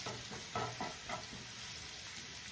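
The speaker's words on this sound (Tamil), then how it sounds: "பச்சை மிளகா, பூண்டு, இஞ்சி வதங்க கொஞ்சம் தூள் உப்பு சேர்த்துக்கிறேன்." Green chili, garlic and ginger sautéing in a pan with a pinch of salt, a soft, close sizzle with a few light stirring scrapes near the start, quiet and steady throughout.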